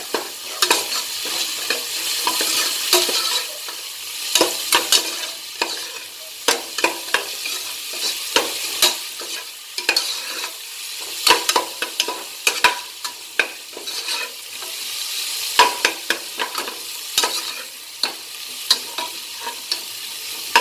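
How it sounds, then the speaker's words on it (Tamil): Crushed garlic sautéed in a pan as the base for pepper mutton soup, with a steady close sizzle and frequent sharp ladle scrapes and taps throughout. "பூண்டு நச்சு வச்சுருக்கோம் இல்லையா, அதையும் இதில் கலந்துட்டு கொஞ்சம் வதக்கணும்"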